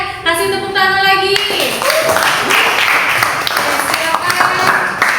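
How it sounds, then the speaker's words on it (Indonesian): A classroom of students clapping their hands in applause, a dense, lively patter of many hands following a brief sustained tone, with voices and chatter mixed throughout. "Kasih tepuk tangan lagi."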